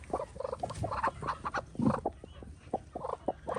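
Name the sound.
chicken clucking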